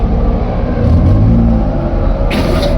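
A wide-body Porsche engine revs at the Daikoku car meet in Japan, a loud, close, steady rumble that swells briefly into a rising growl before settling back, with no voices.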